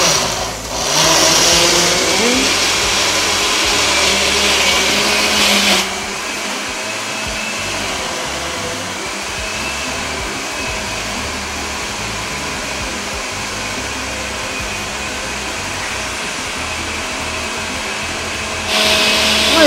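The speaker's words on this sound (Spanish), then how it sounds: "Ya le hemos agregado el caldito y luego vamos a licuar a esto" A kitchen blender whirs loudly and steadily as it liquefies Arequipa-style pork adobo sauce with broth, a harsh high start settling into a continuous motor drone before a brief surge at the end.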